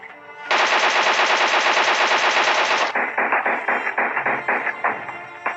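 Automatic gunfire in the PUBG battle royale game: one long, dense, rapid burst, then a slightly slower string of shots. Loud and close, with no talk.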